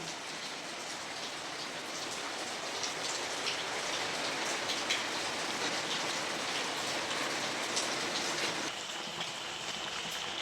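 Banana flower vada deep frying in hot oil, a dense, steady crackling sizzle that fills the whole stretch at an even loudness, with no talking.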